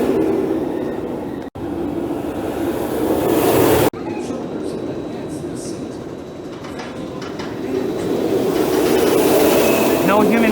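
An empty blue Alpen Fury roller coaster train rumbles and rattles along its track at night in a long continuous roar, with clacking and a faint squeal, swelling as it nears.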